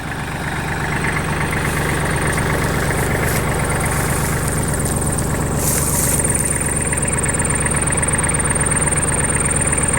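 A tractor engine idles steadily after tilling a food plot, a loud continuous low rumble with constant vibration and no breaks, heard close by with no talking.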